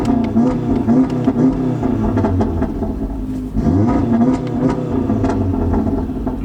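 A 400 bhp modified VW Golf R revs hard, its engine climbing and falling in repeated blips, loud and close, with a brief dip before rising again.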